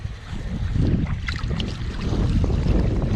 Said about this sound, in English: the wind's affecting it now